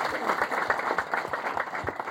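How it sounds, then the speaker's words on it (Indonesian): Congregation applauding inside a church at the close of a sermon, dense steady clapping mixed with some voices, fairly near and sustained throughout. "Beri tepuk tangan terbaik buat Tuhan Yesus Kristus."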